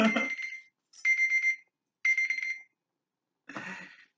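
A three-minute timer alarm rings in four separate bursts of bright, steady electronic beeping, close and fairly loud, with short silent gaps between them.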